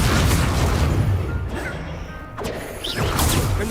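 Confringo spell blasts in the game Hogwarts Legacy burst and crash loudly amid a dense, continuous battle din, with a couple of sharp impacts and a brief dip before the noise surges again.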